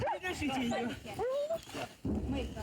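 A dog yelps and whines in short, rising cries close by, with voices talking around it.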